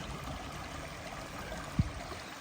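Small mountain stream flowing over rocks along the Appalachian Trail between Hog Camp Gap and The Priest Shelter, a steady soft wash of water with one brief thump near the end, no talking.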